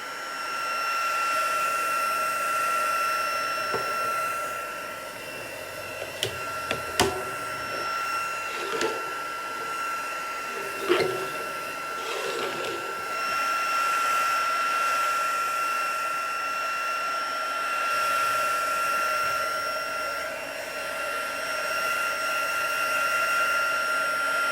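A hair dryer blows steadily in a salon setting while hair is dried, a constant whirring hum with a few brief clicks and knocks, no one talking.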